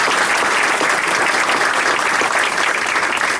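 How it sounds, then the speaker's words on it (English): Dense, steady audience applause fills a 50th-anniversary ceremony for the Chesapeake Bay Bridge-Tunnel as commissioners are honored, a loud continuous wash of many hands with no talking. "Join me in applauding."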